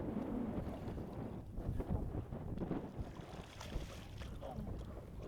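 Steady wind gusting across Lake Okeechobee around a fishing boat, a loud low rumble of buffeting against the microphone that continues without pause.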